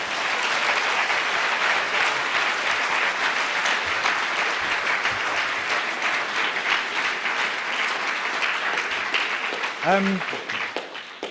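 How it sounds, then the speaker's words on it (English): Audience applause fills a gallery debate evening, a dense steady wash of many hands clapping throughout, with a brief voice rising near the end. "So you all deserve a great, great applause"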